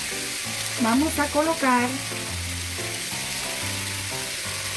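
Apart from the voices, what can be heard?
chicken breast cooking in pan over medium heat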